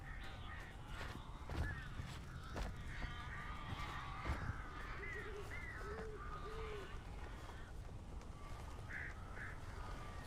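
Crows in the video game Alan Wake caw in several harsh bursts over a steady game-ambience background, with a few clicks and thuds between calls.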